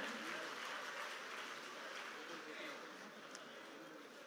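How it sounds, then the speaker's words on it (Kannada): A faint, steady wash of audience applause from a crowd at a public stage event, even clapping that holds for several seconds and fades slightly toward the end. "ಚಪ್ಪಾಳೆಗಳ ಮುಖೇನ ಪ್ರೋತ್ಸಾಹಿಸಿ ಬಂಧುಗಳೇ"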